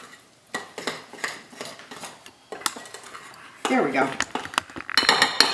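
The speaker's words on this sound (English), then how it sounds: "You want to mix it until it's completely mixed, but not overly mixed." A spoon stirs chowder muffin batter in a bowl, a scraping, clinking run of strokes against the sides that grows busier near the end, with a brief spoken remark partway through.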